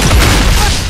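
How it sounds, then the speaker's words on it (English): A grenade going off in a video game, one loud, dense boom that fills the whole second with rumbling roar. "Throwing grenade!"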